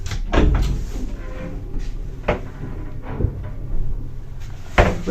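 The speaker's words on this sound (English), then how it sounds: "You have to shut both doors of these ones." Lift doors in a building in Skopje, Macedonia, shut by hand, giving several hollow thuds and clunks spread over a few seconds against a steady background hum.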